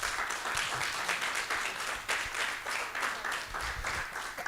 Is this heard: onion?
no